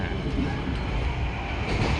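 An executive-class local train between Malang and Surabaya rumbles over the Arjosari flyover with a low rolling drone and faint rhythmic wheel clatter, close and continuous.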